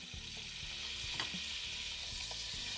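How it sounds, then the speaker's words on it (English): Bacon and half a stick of butter fry in a pan with a steady, fairly quiet sizzle, broken by a few faint stirring clicks. "So now we've got that other half a stick of butter in there along with the bacon."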